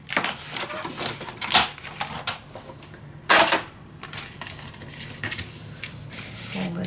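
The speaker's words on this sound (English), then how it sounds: "I'm going to make 2 score lines" Paper being scored for a scrapbook mini album page: a string of close, crisp scrapes and clicks with a few sharper taps, spread unevenly over a quiet background.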